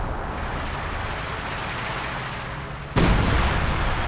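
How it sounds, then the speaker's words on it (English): A German howitzer fires in Company of Heroes 2, a sudden heavy boom that cuts through the constant background battle noise and leaves a loud rumbling tail. "Germans firing the howitzer"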